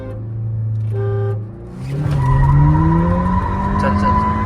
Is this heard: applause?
no